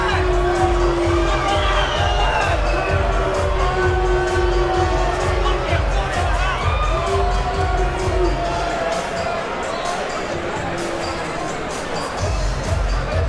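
A Georgia MMA fight crowd boos and shouts loudly in a large venue, a dense sustained roar with long drawn-out jeering calls rising above it, while commentators talk in the background.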